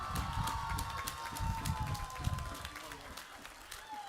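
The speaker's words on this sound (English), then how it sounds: "please rise so we may applaud your achievement" An audience at a college commencement ceremony applauds its rising honor graduates, a continuous wash of clapping with a few cheers, moderately loud and filling the hall.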